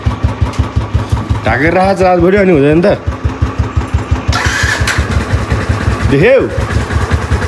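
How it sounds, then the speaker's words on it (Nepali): A motorbike engine cranks to life and settles into a steady, throbbing idle with regular low pulses, revving up briefly twice, close by and loud, while people talk over it. "हेरौँ है त एकचोटिमा हुन्छ कि नै मेरो बाइक स्टार्ट"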